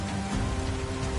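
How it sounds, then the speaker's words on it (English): Heavy rain pouring in the video game Persona 5 Scramble, a dense continuous wash of loud downpour with no gaps or voices. "It just started pouring all of a sudden."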